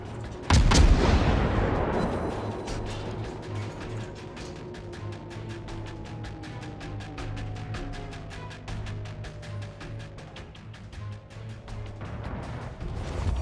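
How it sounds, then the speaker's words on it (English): Naval artillery fire in the World of Warships game, one heavy booming salvo followed by a long rumbling decay, with shell whistles and a string of sharp mechanical ticks carrying on steadily afterward. "All stations requesting fire on the designated target."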